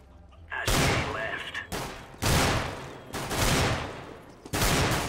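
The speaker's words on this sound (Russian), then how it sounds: "Так, ну, стрельба с дигла." A Desert Eagle pistol fires in CS:GO, a handful of loud, sharp shots spaced roughly half a second to a second apart, each with a ringing tail, after a brief quiet lead-in.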